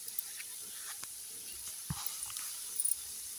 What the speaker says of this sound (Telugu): ఇవి కూడా బాగా వేయించుకోవాలి, ఎర్రగా అయ్యేంత వరకు బాగా మగ్గాలండి టమోటాలు అయితే